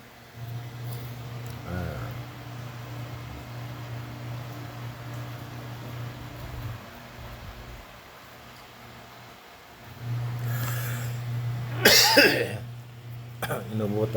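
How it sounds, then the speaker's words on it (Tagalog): A few sharp coughs and throat clearing break through steady background hum inside a taxi, with a person talking intermittently around them. "Inuubo pa tayo guys."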